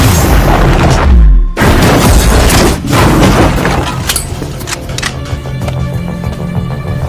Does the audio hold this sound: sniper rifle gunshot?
yes